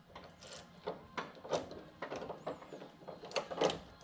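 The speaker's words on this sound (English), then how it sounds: "to tighten them up, I'll just take an adjustable wrench, fit it to the size" An adjustable wrench works on a tie rod during a steering angle kit install on an FRS/BRZ/GT86, giving quiet, close metallic clicks, scrapes and ratcheting taps in an irregular series.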